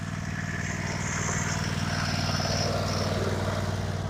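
A lawn mower cutting a yard drones steadily with a continuous rumbling engine throughout, moderately loud and close, with no talk.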